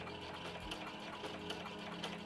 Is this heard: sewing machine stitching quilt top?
yes